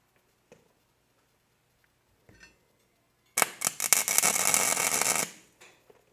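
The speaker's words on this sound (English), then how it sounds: "Here's a little nub here, which I can weld." Short MIG welding bead laid on a small nub of a porous, messy metal piece, a close buzzing crackle lasting about two seconds after brief quiet clicks.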